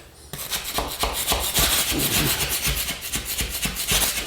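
Chisel scraping a small chunk of hardened material off a floor being prepared for vinyl plank flooring, rapid repeated close scraping strokes in an uneven rhythm.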